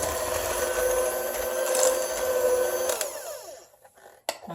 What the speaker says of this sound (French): je vais continuer à mixer